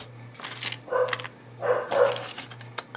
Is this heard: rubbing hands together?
no